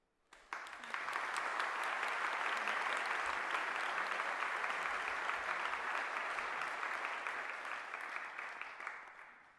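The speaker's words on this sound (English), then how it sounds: "So clap, cheer, celebrate yourselves and others around you" A graduation ceremony audience breaks into sustained applause, a dense, even wash of many hands clapping that begins abruptly and holds steady for several seconds before tapering slightly.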